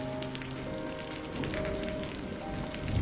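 Steady rain falls on surfaces in a dense, even hiss of many drops, continuous and fairly close, with no voices.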